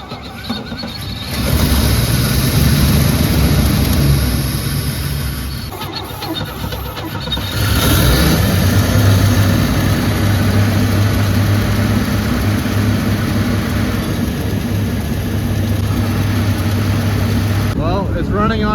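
A 1966 Chevrolet C10 pickup's engine cranks and catches after a second or so, stumbles briefly, then settles into a loud, steady, close idle that runs on alone to the end.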